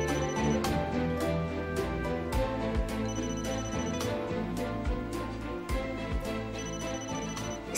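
A telephone rings repeatedly in a domestic scene, with loud, close bursts of bright electronic trilling in a steady rhythm throughout, and no talk over it.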